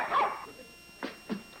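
A dog gives a few short barks, two clear yips after a brief noisy start, moderately close with quiet gaps between them.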